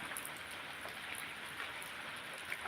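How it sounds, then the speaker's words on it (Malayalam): Rain pours down over hilly country, a constant broadband patter with a few slightly brighter drop sounds scattered through, fairly quiet and unbroken. "മഴ മഴ"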